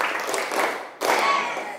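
A class of junior high students claps together in unison, a dense burst of hand claps that breaks off briefly then resumes, fairly loud and close in a classroom.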